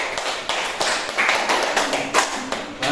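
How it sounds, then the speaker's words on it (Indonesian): Classroom applause for a student group during a computational-thinking lesson, a short burst of scattered clapping and taps filling the room, fairly close and steady for a few seconds. "Tepuk tangan untuk kelompok 3."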